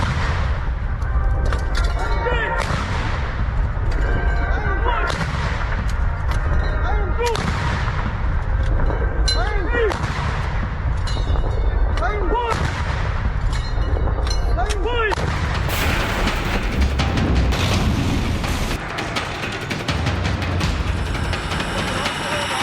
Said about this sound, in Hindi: ये जो गर्जना है, तोपों की आवाज है, इसे भी सुनना चाहिए।